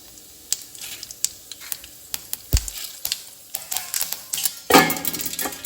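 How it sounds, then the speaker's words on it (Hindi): Tadka of urad dal, fenugreek seeds, cumin and mustard seeds hitting hot oil, sharp crackles and pops with a thud as the seeds drop in, then a louder burst of sizzling, close and without talk. "यहाँ पे मैं मेरा नॉर्मल सा तड़का जो मैं रेगुलरली लगाती हूँ वैसा ही तड़का डालूंगी"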